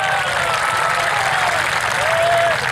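Crowd at a kabaddi match clapping loudly, a thick sustained wash of applause with faint whistles or calls riding over it.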